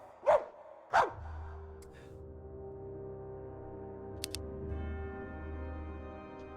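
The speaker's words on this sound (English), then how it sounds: "He just continually barks." A cartoonish dog in the stealth game Metal Gear Ruff gives two sharp barks near the start, followed by a steady low hum and soft game ambience with a few faint clicks.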